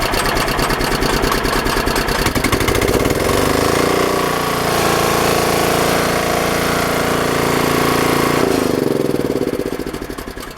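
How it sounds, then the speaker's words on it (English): A propane-fuelled home backup generator engine runs steadily and loud, with a continuous droning hum and rattle that holds even throughout, then slightly shifts near the end. "the generator can be started from in the house or outside of the house"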